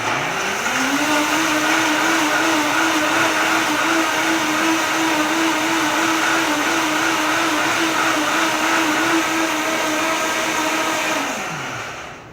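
A kitchen blender whirs through healthy meal-prep ingredients, a loud steady whine that spins up quickly, holds for about eleven seconds, then winds down and stops.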